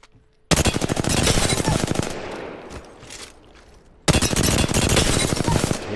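Rapid automatic gunfire from a video game gun, bursts of fast repeated shots fired at training dummies, loud and close, with a short pause midway before another sustained burst.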